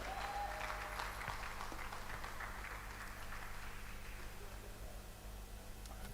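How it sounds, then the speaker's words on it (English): A conference audience claps steadily to welcome a speaker at an event, a continuous wash of applause that fades slightly toward the end, with no one speaking over it. "with the clap, we want to welcome Mr. Sibilu Boja"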